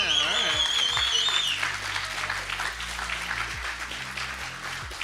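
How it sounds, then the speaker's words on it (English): A large audience at a Marvel Contest of Champions fan festival breaks into loud, sustained applause and cheering. The crowd noise is close and continuous, and tones from the stage sound system fade out early on. "I think they're just cheering for you."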